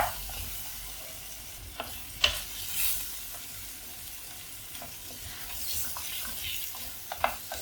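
Raw plantain pieces sauté in coconut oil, giving a continuous soft sizzle with intermittent scraping and clinking as they are stirred in the pan.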